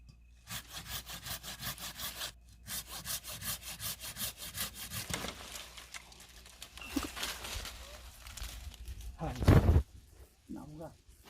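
A hand saw cutting side branches off a diseased tree, with steady rhythmic back-and-forth rasping strokes close up, then a loud crack and rustle as the branch comes away, with some speech over the end.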